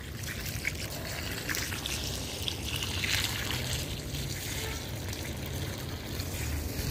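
Water trickles steadily into soil-filled raised beds in a terrace garden, a close, continuous splashing dribble with no voices over it.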